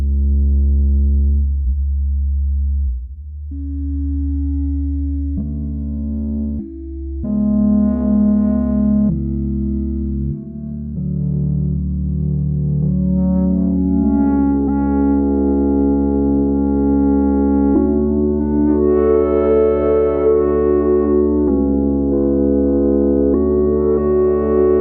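FM synth patch on the NI Super 8 plugin, playing a sequence of clean, sine-like tones that shift pitch and gradually brighten into a richer metallic texture, steady and close with no voices.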